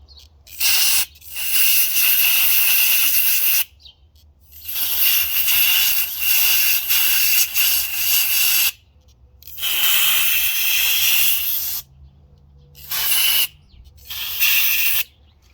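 Upside-down can of compressed air fired in several long, loud, close hissing bursts with short gaps between, used while installing Fabwerx doors on a Can-Am.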